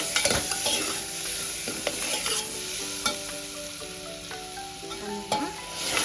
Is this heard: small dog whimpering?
no